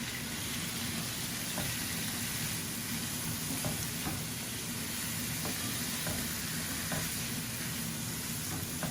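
Potatoes frying with spices in a pan, a steady close sizzle with occasional scraping stir strokes cutting through it, no talking.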